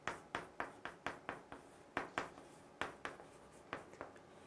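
Rapid handwriting strokes set down while working out a proof by contradiction in a math lesson: about a dozen crisp, scratchy strokes in quick, uneven bursts, close and fairly quiet, with no talking.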